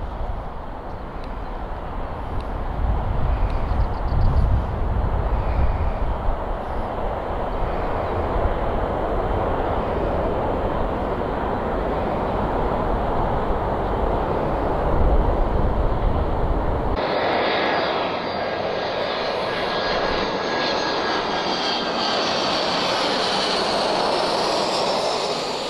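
An EasyJet airliner takes off at Malaga Airport with a loud, sustained jet engine roar that stays steady and close, then shifts to a brighter, hissing tone partway through as it climbs away.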